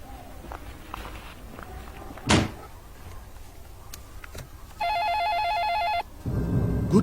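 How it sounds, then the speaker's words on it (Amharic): A telephone rings at home during a family dinner: a single electronic ringing burst, moderately loud, amid footsteps and household movement noises. "ስልኩ ጣላ።"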